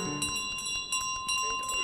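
A bright bell tone chimes repeatedly over busy electronic game sounds in a duck simulator game, with short bursts of activity and a voice in the background.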